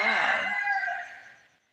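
A chicken gives a single loud, close, drawn-out crow that slowly fades away over a second and a half, with no talking over it.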